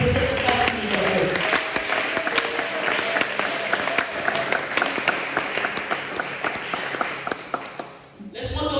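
A church congregation applauds for Christ in dense, sustained clapping that carries on for several seconds and then stops suddenly near the end, with voices mixed into the crowd.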